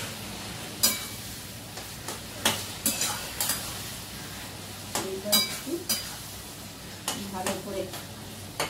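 A spoon or spatula stirs food frying in a pan, repeated scraping strokes over a steady sizzle, close and fairly loud, with a person speaking briefly over it.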